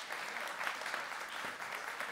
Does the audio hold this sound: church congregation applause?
yes